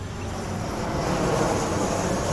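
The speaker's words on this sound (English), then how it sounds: "United Dreamliner from San Francisco, I believe it said." A United Dreamliner airliner from San Francisco comes in to land, its engines a broad steady roar that swells slightly as it nears, loud and continuous with no talk.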